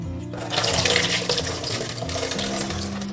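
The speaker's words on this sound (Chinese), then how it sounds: "准备500克糯米，加入清水淘洗干净" Water runs and splashes steadily over 500 grams of long-grain glutinous rice being rinsed in clear water, a continuous close-up gush with no talking.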